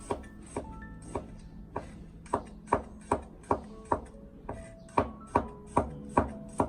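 A knife slices peeled garlic cloves into thin pieces on a cutting board, making about fifteen crisp, evenly spaced taps in a steady rhythm, close and clear.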